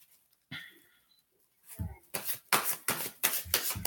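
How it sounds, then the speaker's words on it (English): Tarot cards being shuffled by hand: a few quiet rustles and a brief vocal sound, then a run of close, crisp riffling bursts in quick rhythm. "I do have kind of a process when I shuffle"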